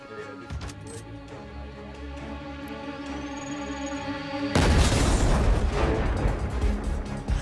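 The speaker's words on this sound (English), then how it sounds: "The TV just exploded." Television blowing up in GTA 5 as a sudden loud burst about midway, followed by a sustained roaring, crackling rumble after a steadier hum.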